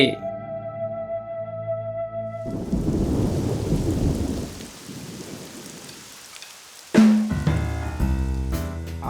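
Cartoon-style thunderstorm effect: a steady roar of heavy rain with rumbling thunder, a sharp loud thunderclap breaking in near the end, heard alone without talk.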